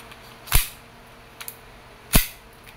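A WE airsoft 1911 Type B pistol fires two sharp, close cracks about one and a half seconds apart, with faint mechanical clicks between them in an otherwise quiet room.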